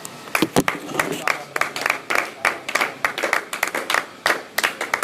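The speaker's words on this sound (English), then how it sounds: "Then give a clap." Scattered clapping from a small crowd, uneven bursts of claps with short gaps, loud and close, with voices mixed in.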